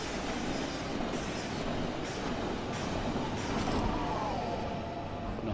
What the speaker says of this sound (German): Und die Dostos fahren auch aus.